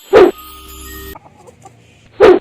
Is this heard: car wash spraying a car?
no